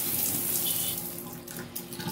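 Water runs steadily from a faucet into a slow-draining hotel bathroom sink, making a continuous close hiss and splash with no talking.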